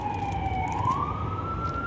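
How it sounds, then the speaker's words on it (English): An emergency vehicle siren sweeps steadily outside, a clear rising-and-falling wail passing at moderate distance over low traffic rumble, with no one speaking. "the sirens are coming, and basically that means something bad"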